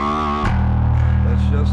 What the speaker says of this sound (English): this pedal, as you see it, I'm using it as a clean distortion